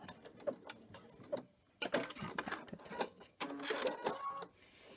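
Quiet rapid clicking and mechanical chatter of a sewing machine stitching appliqué with beads, in short bursts separated by brief pauses; close by and faint.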